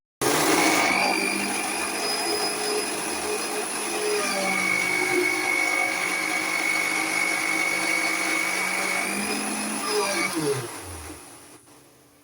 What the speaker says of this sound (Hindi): तो इसके बाद मैं इसे ग्राइंड कर दूँगी।